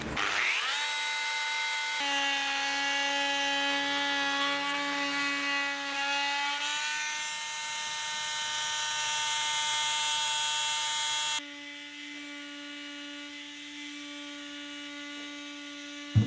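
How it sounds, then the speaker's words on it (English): An oscillating multi-tool buzzes against an old teak deck with a steady, high, whining drone. The pitch shifts slightly partway through, then the tone drops to a quieter level for the last few seconds before it cuts off. No voices are heard. "Let's give the multi-tool a go."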